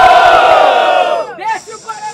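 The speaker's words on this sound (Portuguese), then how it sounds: "Barulho pra quem achou melhor nas rimas de MC Johnny, faça barulho!" Large crowd at a Brazilian rap battle final roars with cheering and shouting, loud and dense at first, then fading into scattered yells and whoops.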